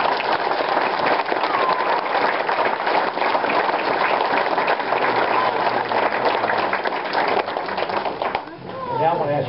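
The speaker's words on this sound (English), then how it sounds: "give these soldiers a good round of applause" A crowd applauds soldiers at a farewell ceremony, sustained loud clapping for several seconds that fades near the end as a voice briefly comes in.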